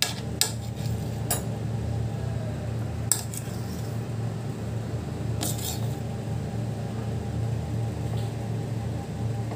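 Vegetables, including cucumber, being stirred in a bowl for a veg sandwich filling, with scattered clinks of a spoon against the bowl over a steady low hum of room noise.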